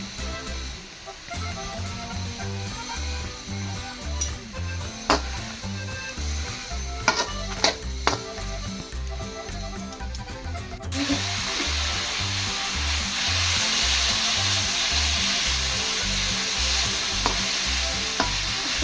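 Oil sizzling in a pan while crab curry cooks, with tapping and stirring noises in the first half, then a louder, steady frying hiss.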